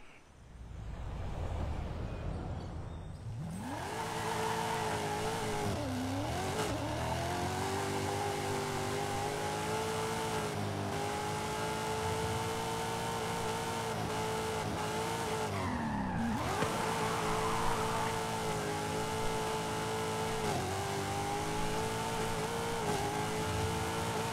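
A car drifts in a racing video game around Mulege, its engine holding a loud, continuous whine that dips and rises in pitch with the slides, under steady tire squeal and no talk.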